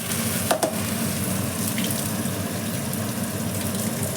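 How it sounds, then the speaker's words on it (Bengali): A paste of ginger, onion, garlic and tomato sizzles steadily in a hot pan, with a brief splash as it lands near the start, then a continuous close frying hiss without talk. "এখানে আমি যে পেস্টটা বানিয়ে রেখেছি, আদা, পেঁয়াজ, রসুন, টমেটো দিয়ে দিলাম ঝপান করে"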